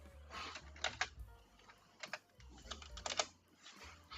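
A student types on a computer keyboard in irregular bursts of crisp key clicks with short pauses between, close and fairly quiet in a calm room.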